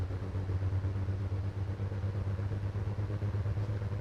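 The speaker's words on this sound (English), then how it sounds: "You can see if I pull back on the right engine, you can hear it in the left engine." Twin-engine Aerostar aircraft in Microsoft Flight Simulator, a steady low droning engine hum with a throbbing pulse, close and continuous throughout.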